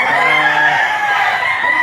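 A rooster crows loudly and close by at a poultry auction market in Lipa, Batangas, one sustained strained call that fills the moment with no voices.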